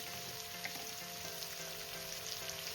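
Slit green chillies sizzling in hot oil with salt and turmeric, a steady, close hiss of frying that holds evenly throughout, with faint crackles and no voices.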